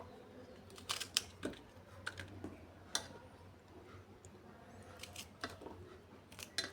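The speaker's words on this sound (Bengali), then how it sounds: "ভেন্ডির বড় বড় টুকরো করে কাটছি।" A knife chops okra into large pieces on a board, giving a series of crisp, sharp taps at an irregular rhythm, close and fairly quiet.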